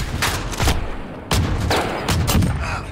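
Call of Duty Modern Warfare multiplayer gunfire comes in loud, close bursts of rapid shots, separated by brief gaps, with a few heavy booms among the volleys.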